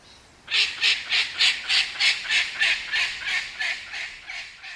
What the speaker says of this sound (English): At the least sign of danger, a warning call is given, a signal to evacuate quickly.